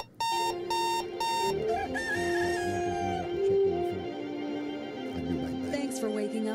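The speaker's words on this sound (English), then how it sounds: "Here comes the rooster." A rooster crowing sound effect, a loud electronic alarm-like jingle with beeping tones opening and then a sustained, drawn-out crow-like tone, all at steady volume with no voices.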